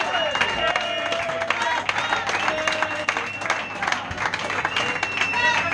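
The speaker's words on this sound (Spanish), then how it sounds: "un aplaudiment" A crowd bursts into steady applause, many hands clapping together loudly for several seconds.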